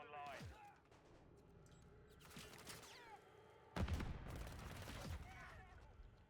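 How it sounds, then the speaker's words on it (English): Gunshots in a first-person shooter: several quieter cracks early on, then a heavier volley of overlapping shots that trails into scattered reports, with someone talking over parts of it. "I hear the shots, but I don't see them"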